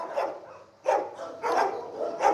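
Large dogs barking in the individual kennel boxes of a Marseille animal shelter, several loud, reverberant bursts in quick succession with short pauses between them.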